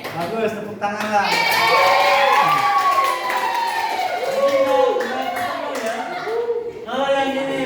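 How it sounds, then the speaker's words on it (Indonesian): A class of schoolchildren in an Indonesian classroom clap their hands together after a correct answer. The clapping is mixed with loud children's voices chanting and shouting throughout. "Bagus, tepuk tangan lah."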